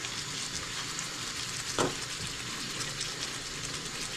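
Chayote and chicken cooking in a pan with a steady, moderately quiet sizzle and bubbling that holds throughout, with one brief clink about halfway through.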